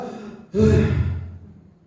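A man demonstrates a sharp intake of breath: brief quiet, then a sudden loud gasp that trails off into a long, fading exhale.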